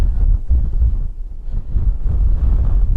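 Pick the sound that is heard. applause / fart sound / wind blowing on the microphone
wind blowing on the microphone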